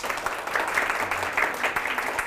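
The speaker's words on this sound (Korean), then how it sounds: "청산뉴스 허용혜 작가님의 강연을 박수로 청해보겠습니다." A lecture audience claps to welcome the speaker, a moderate steady patter of hands that carries on evenly for the whole brief stretch.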